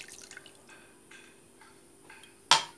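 Lemon juice drips into a bowl while a Turkish acili ezme meze is made, giving faint scattered drips followed by one louder splash near the end.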